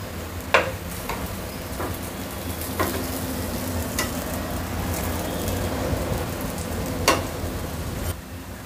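Snack pieces roasting in a pan at home: a steady, soft sizzle and crackle runs throughout, with occasional sharper clicks and taps of a spoon, all without talk.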